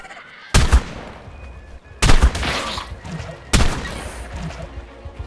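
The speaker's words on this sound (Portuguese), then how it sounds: "foram 3 tiros de pump" Three loud, sharp pump-shotgun blasts in the video game ARK: The Island, spaced evenly about a second and a half apart, each with a short booming decay over low background noise.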